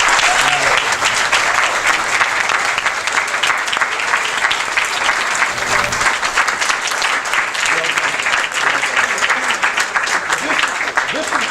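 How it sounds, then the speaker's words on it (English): Sustained audience applause at a graduation ceremony, loud and steady throughout with dense clapping from a full room and a faint voice now and then. "let's give them a round of applause for their support"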